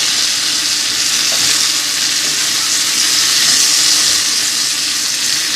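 Fresh asparagus fries in a pan on the stove with a loud, steady, close sizzle that continues without break throughout.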